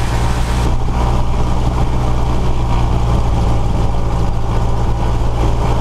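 A light aircraft engine runs rough during a pre-takeoff magneto check, giving a loud, steady, close-up drone without a break.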